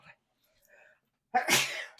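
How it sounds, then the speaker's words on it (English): A single sharp sneeze close to the microphone near the end, preceded by a few faint breathy sounds. "I felt that sneeze coming."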